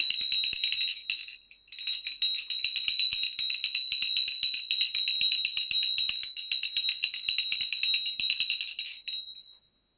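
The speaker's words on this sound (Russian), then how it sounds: "Давайте колокольчик сейчас почистим." A small handbell rings continuously for about nine seconds at a steady, rapid tinkling rhythm, close and bright, with one brief pause near the start and no voices.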